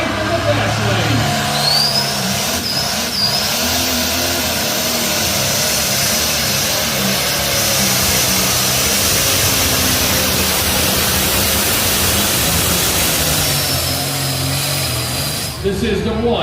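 A tractor engine at a tractor pulling event in Lincoln, Nebraska, roaring steadily and loud for the full stretch with some shifts in pitch, under a crowd-wide wash of noise and an announcer talking over a loudspeaker.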